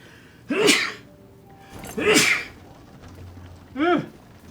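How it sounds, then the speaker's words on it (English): Three sneezes burst out one after another at close range, each a sharp explosive blast with a rising intake, separated by short pauses. "I feel like I'm going to sneeze"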